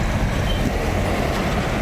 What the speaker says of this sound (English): Got a truck going past there.